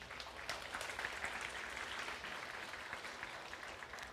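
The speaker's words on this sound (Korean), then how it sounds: "우리 격려하고 축복하는 박수로 함께 모시겠습니다" Applause from a church congregation welcoming a young man forward to share a mission-trip testimony, steady and fairly faint across the whole stretch.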